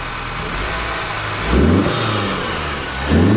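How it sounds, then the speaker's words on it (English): An Acura RDX A-Spec engine with an HPS air intake revs up twice, each rise sharp and loud with a whooshing turbo spool, settling back to a steady drone between. "We got some turbo noises now"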